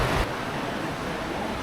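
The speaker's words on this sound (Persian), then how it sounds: "این صدای رودخونه که میاد کلا حس مثبت به آدم میده." A river flows near a jungle restaurant in Sumatra, Indonesia, a continuous broad rushing wash that holds steady throughout, close and fairly loud, with no voices.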